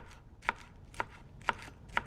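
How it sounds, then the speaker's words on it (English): A knife dices scallions on a cutting board for chicken enchilada soup. Four crisp, evenly spaced chops land about half a second apart, close and clear, with light knife noise between them. "So I'm just going to dice up some scallions"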